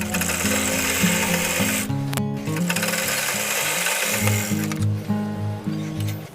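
Sewing machine stitching a fitting seam on a blouse, running in steady rapid bursts with a brief pause midway, loud and close with no talk.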